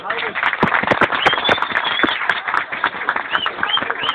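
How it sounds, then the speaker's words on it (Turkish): Crowd applause at a ribbon-cutting for a village solidarity association's opening, mixed with scattered sharp claps and bangs and overlapping voices and chatter, busy and fairly loud. "Hep birlikte bir alkış istiyoruz."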